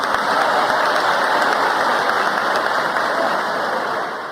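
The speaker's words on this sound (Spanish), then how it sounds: "Pido un aplauso por ustedes." Applause from an audience at an event with Colombian president Petro and the Éxito group in Chocó, a dense, even roar of many people clapping, loud and sustained, easing slightly toward the end.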